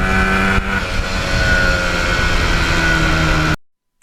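A 1977 Yamaha RD400 two-stroke motorcycle runs steadily while being ridden, a loud continuous engine drone with a slight change in pitch, before cutting off abruptly.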